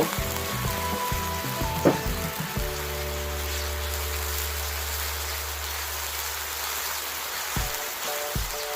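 Basil meatballs stir-fried in a hot pan, a steady close sizzle carrying on for several seconds under a low kitchen hum, with a few brief scrapes near the start.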